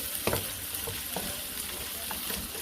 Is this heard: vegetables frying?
yes